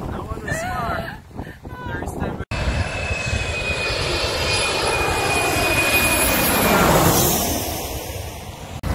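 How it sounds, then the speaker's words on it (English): A jet airliner comes in low over Maho Beach in Sint Maarten, its engine roar surging loud and close with rushing wind noise and slowly fading, after a few seconds of voices at the start. "We're tired of planes landing, honestly."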